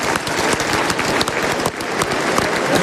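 Loud, dense applause fills the Palais des Congrès in Yaoundé during the 2023 FECAFOOT Ballon d'Or ceremony, a continuous crowd of clapping hands with scattered sharp claps standing out close by.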